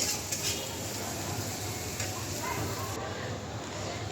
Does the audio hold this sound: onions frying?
yes